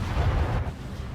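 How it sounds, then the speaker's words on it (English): The Hosho warship explodes in World of Warships with a deep rumbling boom that rolls on for about a second, dense and low, with no voices. "check out the explosion here on the Hosho when the end credits screen freezes on him"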